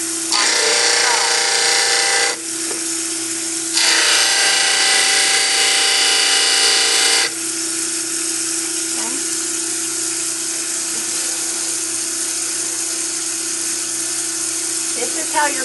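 A dental model trimmer grinds notches into the sides of a plaster cast, giving a loud, high whining grind in two close bursts over a steady motor hum, followed by quieter running as a voice talks.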